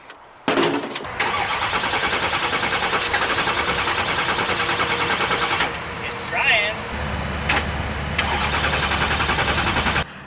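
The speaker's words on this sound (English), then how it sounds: "Well, it doesn't look like she's gonna start." A 6.6 Duramax diesel in a van cranks repeatedly and fails to catch, a steady starter grind running for several seconds with a low drone under it near the end. Voices talk over the cranking.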